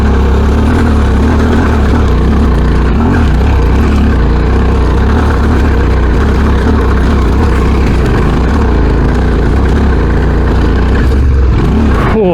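An off-road vehicle engine labouring up a track in first gear on the Moonlight Spur Track, a loud, steady low-pitched drone with slight revving variations throughout.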